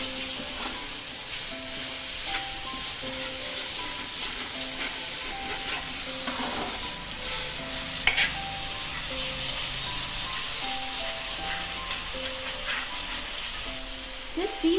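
Turmeric and garam masala are stirred into a steadily sizzling pan, the spoon scraping now and then over a constant hiss of frying, with a sharp clink partway through.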